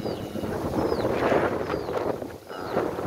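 Strong typhoon wind roars steadily in open farmland with coconut palms, a broad rushing noise that surges and buffets the microphone with no voices.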